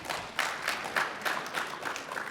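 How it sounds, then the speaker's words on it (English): Keynote audience in Calgary breaking into steady applause, a dense wash of many hands clapping at moderate distance with a few louder pulses, no voices over it. "I'm not used to being interrupted by clapping."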